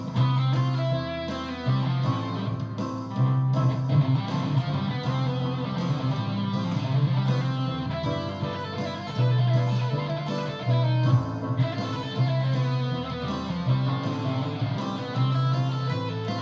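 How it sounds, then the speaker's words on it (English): A guitar plays a lead line in key over a backing track with bass and rhythm, using a weird, mysterious-sounding scale. The phrases repeat steadily at moderate loudness with no talking. "let me play along with the track here so you can hear what I'm talking about"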